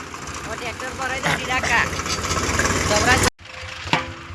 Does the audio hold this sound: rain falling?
no